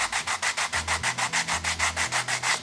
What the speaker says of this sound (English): it's much harder for me to sand this flat with a hand sanding block